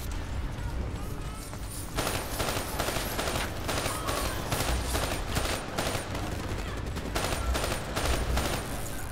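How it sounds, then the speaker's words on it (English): Grenades go off amid heavy gunfire in Call of Duty: Black Ops III, a loud, dense barrage of repeated blasts and rattling shots pounding in rapid, uneven bursts throughout. "Those are grenades. Those are bad."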